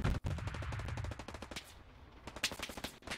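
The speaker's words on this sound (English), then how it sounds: "Strafing run coming out on King Ataga." Rapid automatic gunfire from a strafing run in a Band of Brothers–style World War II video game, dense bursts of shots crackling loudly and continuously before thinning into scattered sharp reports.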